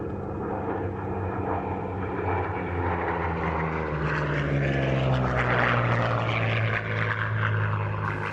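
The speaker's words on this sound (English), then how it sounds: "they're coming in now from our left, the Seafire 3 and the Corsair." A Seafire 3 and a Corsair, Second World War Fleet Air Arm propeller aircraft, fly past at an air show with a loud, continuous droning engine roar that shifts in pitch as they pass.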